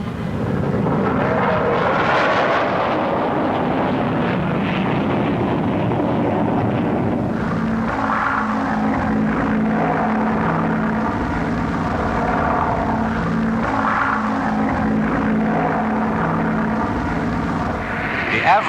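Aircraft at the 1950 Farnborough air show, including the Avro 707B delta with a Derwent turbojet, roar past in a loud, continuous wash of jet noise with wind buffeting the microphone.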